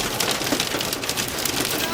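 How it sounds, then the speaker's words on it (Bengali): Heavy rain and hail patter hard and steadily on surfaces near Shillong, a dense rattling hiss throughout the short stretch. "পুরো শিলাবৃষ্টি হচ্ছে এখানে"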